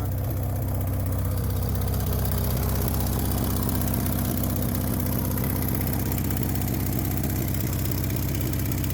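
A Honda engine that had sat unused for four years runs steadily throughout, a loud, close, continuous idle drone with a rough low rumble and no talking.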